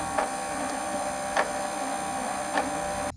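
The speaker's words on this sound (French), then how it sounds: "Ça doit être encore plus cool de travailler avec une imprimante 3D" 3D printer running with a constant mechanical hum and whir, punctuated by three brief higher clicks of the moving head, close and steady with no voices.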